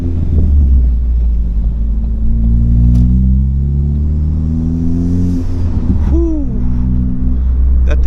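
A Ford Focus MK3 with a swapped engine idles loudly and close, a deep steady rumble with rising and falling tones as the revs shift briefly, no talking over it.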